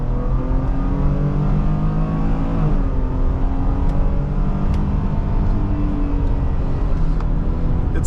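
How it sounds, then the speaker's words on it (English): A 2020 Ford Police Interceptor Utility with the 3.3L engine accelerates at full throttle, a loud, steady engine roar heard from inside the cabin that rises in pitch, drops briefly at a gear change, then climbs again. "Let's give it full throttle."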